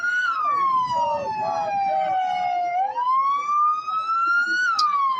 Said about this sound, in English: that siren, is that the car?